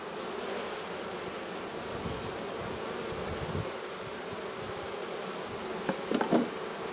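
Honeybees in a hive during swarm control fill the air with a steady, dense buzzing drone, close and continuous throughout, with a few brief louder bumps near the end.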